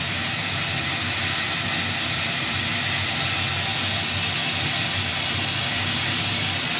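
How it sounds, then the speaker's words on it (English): 1910 Stanley Steamer steam car building up steam, a steady broad hiss and rushing roar that runs loud and unbroken throughout, with no talk. "We have steam. Very slowly, we're starting to have steam."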